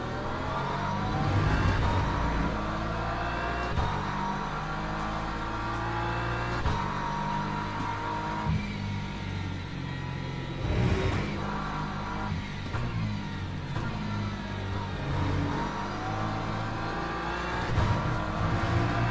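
Hypercar engines race in the Le Mans Ultimate sim, a dense, continuous roar of several revving motors with shifting pitch and occasional swells as cars pass close, steady and loud throughout.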